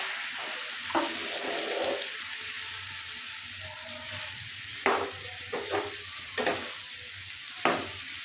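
Ridge gourd curry fries in a pan with a steady low sizzle while a spoon stirs it, scraping and clinking against the pan in several sharp knocks. The sound is close and moderately quiet, with no talking.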